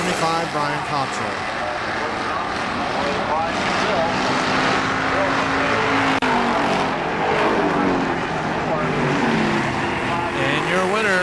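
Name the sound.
race cars at KilKare Speedway, car 75 leading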